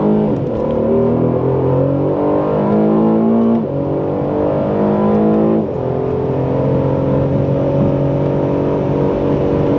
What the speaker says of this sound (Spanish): Inmediatamente el carro responde de otra manera. El sonido modificado claramente.